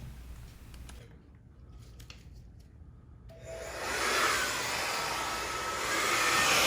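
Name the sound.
blow dryer blowing paint across a Dutch pour painting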